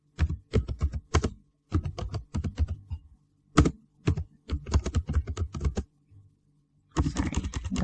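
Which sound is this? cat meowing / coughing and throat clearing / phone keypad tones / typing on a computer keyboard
typing on a computer keyboard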